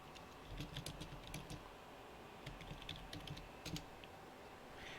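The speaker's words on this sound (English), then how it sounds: "I'm just typing something" Rapid clicking of fingers typing on a computer keyboard, close and fairly quiet, in irregular bursts of keystrokes with short pauses between them.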